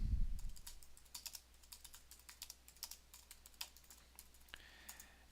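Fast, light typing on a computer keyboard, a quiet run of irregular key clicks close to the microphone, with no talk.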